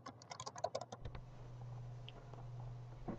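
A name being typed on a computer keyboard, a quick flurry of light, close key clicks lasting about a second, then only a low steady room hum with one stray tick.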